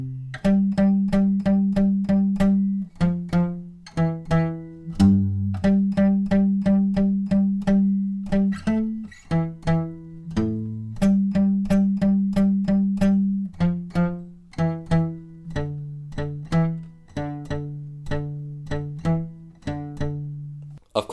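Guitar with no capo plays the main riff of a song slowly, a repeating pattern of plucked notes and short strummed chords with clear gaps between phrases, close and alone throughout.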